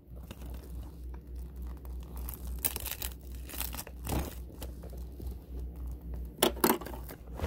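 Scissors cut open the plastic wrap on a DVD case, making crinkling, tearing and crunching noises in irregular bursts, close by and moderately loud, with no talking.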